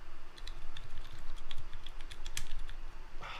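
Heavy keyboard fitted with 1300g spring switches, its keys driven down hard one after another in a dense, steady run of close, muffled clacks and thumps.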